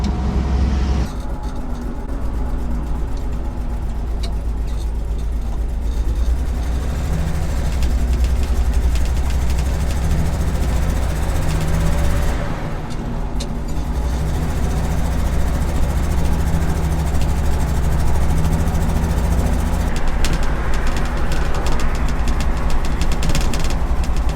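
A 1962 International AB110 truck engine, freshly tuned carburettor and new spark plugs, running steadily and loud up close with a deep, even rumble and a slight knocking throb that holds without a break.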